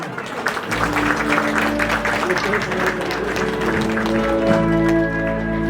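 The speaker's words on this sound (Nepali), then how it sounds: "म समय दिँदा आउनु भएको सबैले ताली बजाउनेछ" An audience claps at a Christian wedding ceremony, a dense, continuous round of applause that starts abruptly and holds steady, with voices and tonal sounds mixed underneath.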